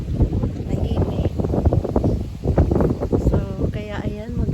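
Cold wind blowing outdoors in Germany, a steady broadband rush with gusty surges and rustling, continuous and fairly loud close to the microphone, with a voice talking over it.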